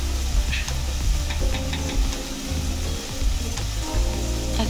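Garlic paste sizzling in a hot pan with softened tomatoes while moong dal is cooked, a steady close crackling fry with faint ticking stirs, no voices.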